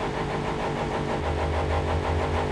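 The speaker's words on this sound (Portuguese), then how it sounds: "Ó, olha lá acelerando." A car engine in the racing video game The Crew 2 revs up, a steady mid-pitched drone that rises in intensity and holds strong and close throughout, with no talking.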